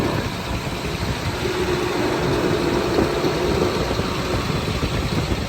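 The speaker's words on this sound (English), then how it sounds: "The engine sounds very healthy." A 2006 GMC C8500 Altec digger derrick 4x4 truck's diesel engine idles steadily, a continuous low rumble with a faint tonal hum, close and unchanging throughout.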